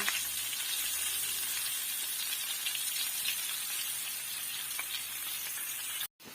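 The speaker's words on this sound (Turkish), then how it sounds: "Şimdi tavada biraz kızartacağım." Oil sizzles and crackles steadily in a pan, a constant hissing fry close by, briefly cut off near the end, while frying for topalak soup.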